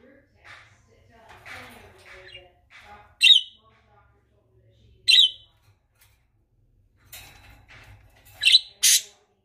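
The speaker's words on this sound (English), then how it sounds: "Who's a fluffy bird?" A fluffy pet bird gives several sharp, loud squawks spaced a few seconds apart, along with softer chirps. A person talks softly to it between the calls.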